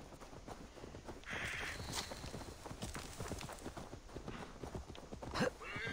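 A horse moves at speed in the video game Assassin's Creed Valhalla. Steady rhythmic hoofbeats thud throughout, with faint ambient game sounds and a brief bird call in the background.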